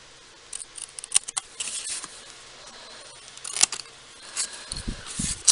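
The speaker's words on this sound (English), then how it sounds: "I'm going to snip this little corner square off." Scissors snip a small corner square off a sheet of paper card, giving several short, close, crisp cuts spread out over a quiet background.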